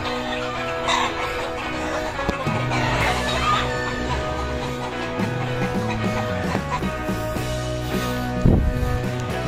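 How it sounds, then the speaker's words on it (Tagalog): Chickens cluck repeatedly in a busy outdoor scene, with a steady background of wind and ambient noise throughout. "Eh, daming manok na alaga."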